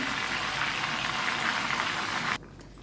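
Marinated chicken for Hyderabadi red gravy hits a hot pan on high flame, giving a loud, steady sizzle that cuts off abruptly near the end.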